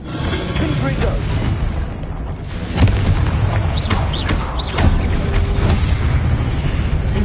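Loud, booming explosive blasts from the Confringo spell in Hogwarts Legacy, with sharp bursts landing at intervals over a rumbling background and a few brief crackling pops between impacts.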